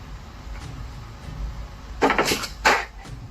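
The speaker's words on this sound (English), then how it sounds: "His hand isn't even touching anything when there's a knock from the other side." Knocking comes from the other side of a door, two sharp wooden knock bursts that follow a stretch of low ambient rumble, close and fairly loud.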